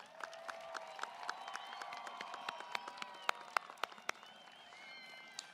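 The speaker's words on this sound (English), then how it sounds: "Let's give one more round of applause for the band for Pomp and Circumstance tonight." A graduation ceremony audience applauds the band after Pomp and Circumstance, scattered claps ringing out at a distance in a large hall, sparse and fairly faint, with a few sharper claps standing out near the end.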